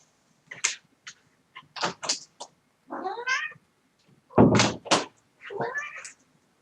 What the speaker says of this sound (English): This cat really wants to get in my room.